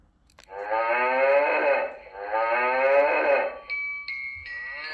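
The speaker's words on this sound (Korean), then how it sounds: "소가" Cow mooing twice in long, low, drawn-out calls close to the microphone, followed by a few short electronic tones, as part of a children's animal sound book.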